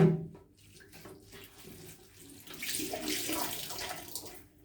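Water runs and splashes steadily, like a tap filling a basin, as foam is rinsed into cold water during a face-washing routine; the sound is soft and continuous, swelling louder in the second half.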